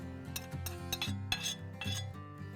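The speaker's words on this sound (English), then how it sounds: "I'm going to quickly mash that to make a nice apple puree" A spoon mashes soft cooked apples into a light, fluffy puree in a bowl, giving close, repeated scraping clinks and knocks of metal against the dish with no talk.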